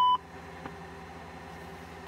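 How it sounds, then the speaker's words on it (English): A KLN94 aviation GPS unit gives a short electronic beep at the very start of a database update, then falls quiet under a faint steady hum. "you're going to hear some beeps here in a minute"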